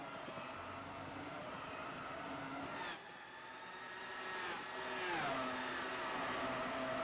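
Race cars in a Dutch Grand Prix racing video game roar steadily at a distance, engines rising and falling with gear shifts and passing revs over several seconds, no voices present.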